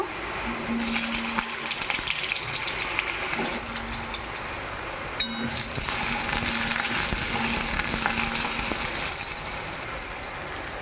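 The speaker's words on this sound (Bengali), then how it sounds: "কড়াইয়ে তেল দিয়ে দিয়েছি তেল গরম হয়ে গেছে এবার আলুগুলো ভেজে নেব" Potatoes frying in hot oil in a wok, a steady close sizzle and hiss running the whole time with a few light clinks, no talking.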